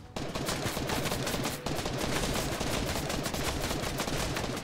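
Rapid, sustained gunfire from a Fortnite match, loud and dense bursts running almost continuously with a brief dip near the middle, no voices over it.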